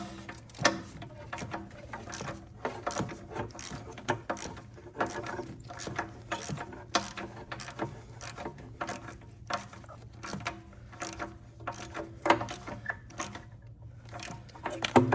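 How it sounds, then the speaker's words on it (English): Ratchet wrench turning bolts on a 2013 Chevrolet Equinox exhaust manifold, a steady run of quick close clicks in short bursts with brief pauses, no talking. "go with my ratchet first"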